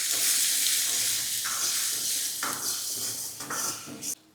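Onion and finely chopped tomato fry in a pan for butter chicken, giving a steady close sizzle with soft stirring scrapes and a few brighter sputters and clinks, with no talking.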